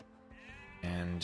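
A single sheep bleat from a medieval strategy video game, wavering and nasal, rising in loudness toward the end, heard clearly with little else around it.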